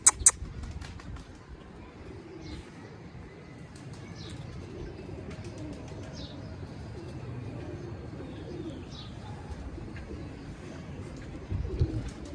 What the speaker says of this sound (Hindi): कबूतर बैठ रहा है हमारा